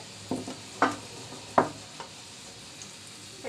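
Pitha batter in a mould dips into hot deep-frying oil, giving three sharp bursts of crackling sizzle over a low steady oil hiss, close and moderately loud, without speech.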